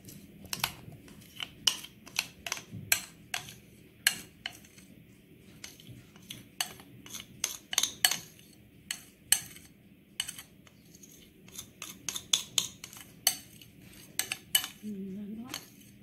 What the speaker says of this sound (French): Et là, j'ai bien fait fondre mon chocolat au bain-marie ou bien au micro-ondes, comme vous voulez. Et je mélange bien le tout.